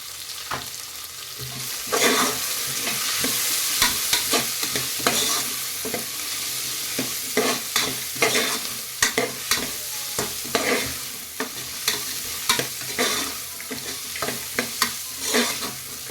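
Green peas fry in a pan for wedding-style ghee rice, a steady sizzle under repeated scraping strokes of a spatula stirring them, close and continuous with no talking.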